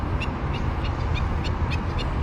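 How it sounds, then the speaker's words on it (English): Birds chatter by the LA River near a freeway crossing, with a repeated rhythmic calling over a heavy, constant low rumble of traffic. "you can really hear the birds chatting"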